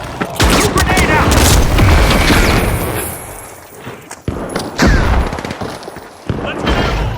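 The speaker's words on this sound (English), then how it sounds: "Coup grenade out!" A thrown grenade in The Finals blows up in loud booming blasts, with further heavy bursts and gunfire-like cracks following amid constant loud game action.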